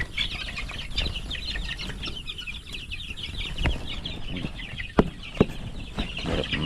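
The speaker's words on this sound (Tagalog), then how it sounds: "Unti-unti nang dumami ulit yung mga manok natin." Backyard flock of chickens clucking: a continuous chorus of short, repeated clucks, fairly close and moderately loud, with a few sharp knocks and bumps nearby.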